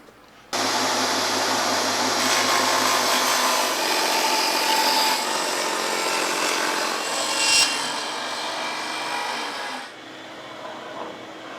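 A saw cuts 2.5-inch-wide wood strips for a rustic farmhouse window frame, a loud close continuous rasping buzz that starts abruptly, runs for about nine seconds and then eases to a quieter tail, with no talking.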